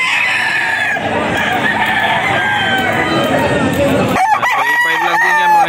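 A young gamecock stag, a white jacket around 3.5 months old, crows loudly and close, one long drawn-out call. Clucks and other fowl on a farm follow, with someone talking over them.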